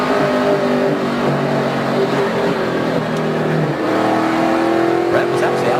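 NASCAR Nationwide race cars at Phoenix International Raceway during the 2012 Great Clips 200, engines droning and shifting pitch as they circulate under a caution, heard beneath continuous commentary.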